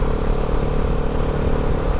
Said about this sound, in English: There's 2 motorcycles